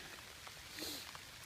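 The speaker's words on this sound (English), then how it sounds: "It started raining quite heavily." Steady rain hissing on surfaces, a dense continuous patter with no voices, fairly even in loudness throughout.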